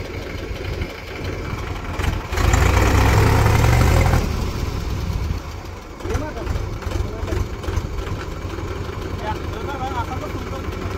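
A tractor engine idles nearby with a steady rumbling drone that swells louder for a couple of seconds before settling back, while people talk over it.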